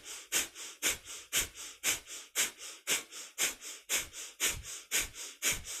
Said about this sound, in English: keep your breath of fire going.